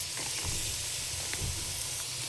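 Masala fries in oil with yogurt added, a steady, close sizzle with a dense bubbling hiss and faint low crackles, unbroken for a couple of seconds.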